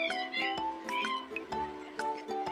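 A cat meows in a rapid series of short, tonal calls in the foreground, several cries in quick succession with no speech.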